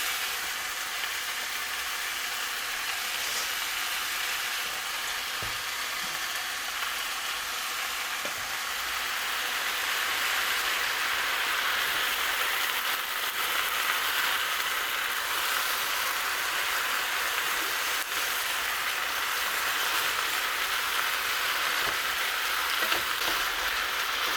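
Vegetables and pre-cooked meat stir-fried for Mokpo-style japchae in a home kitchen, giving a steady, close, loud sizzle with faint stirring scrapes throughout, no talking.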